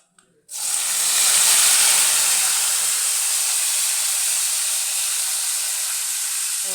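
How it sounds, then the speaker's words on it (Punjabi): Okra (bhindi) drops into hot oil in a kadai, setting off an abrupt, loud sizzling hiss after a brief quiet start, holding steady and easing only slightly as it continues. "ਤੇਲ ਹੋ ਗਿਆ ਜੇ ਗਰਮ ਤੇ ਆਪਾਂ ਇਹਦੇ ਵਿੱਚ ਪਾ ਦਈਏ ਹੁਣ ਭਿੰਡੀਆਂ"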